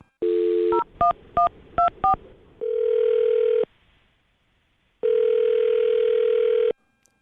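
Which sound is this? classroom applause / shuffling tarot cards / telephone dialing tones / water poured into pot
telephone dialing tones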